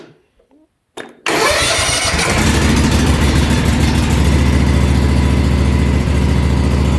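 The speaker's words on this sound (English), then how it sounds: "So we'll do about half choke and just see if she fires." Husqvarna Z248F zero-turn mower engine on half choke cranks briefly, catches and fires, then settles into a loud, steady, rumbling run close by.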